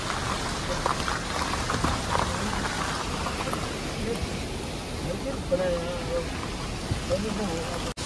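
Water rushing down from the hills at a mountain waterfall in Uttarakhand, a continuous dense roar of flowing water throughout, with a voice talking faintly underneath.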